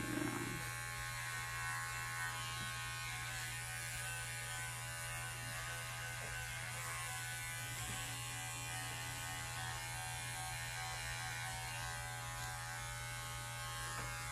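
Electric clippers buzz continuously while shaving a poodle's feet during its first haircut, a steady close hum that runs alone throughout.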